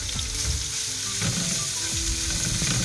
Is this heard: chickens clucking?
no